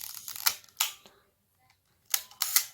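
A film advance lever is cocked on a Ricoh GX-1 analog camera, giving two pairs of sharp mechanical clicks and ratchets with a quiet gap between them, close and alone.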